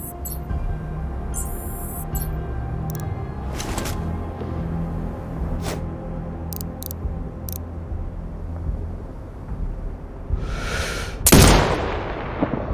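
Sniper rifle shots crack in Sniper Ghost Warrior Contracts 2: a few sharp, widely spaced reports over a low ambient rumble, ending in a louder, closer blast with a ringing tail.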